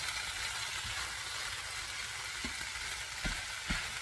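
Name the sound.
ham hash and hashbrowns frying in oil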